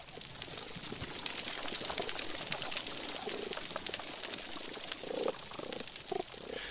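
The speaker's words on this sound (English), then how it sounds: "a lot of the sounds that you hear, the chirping, the croaking, the grunting sounds," Underwater on a coral reef, fish make scattered chirps, croaks and low grunts over a dense, crackling hiss, faint and spread through the water.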